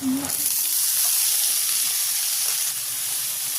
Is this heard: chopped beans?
yes